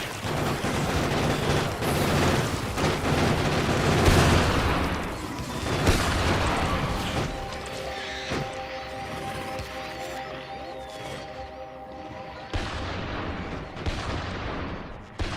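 A sniper rifle fires in modded Factorio while hunting enemy bases with worms, a dense barrage of booming shots and blasts rolling together in the opening seconds, easing into a tonal hum with a few sharper reports later.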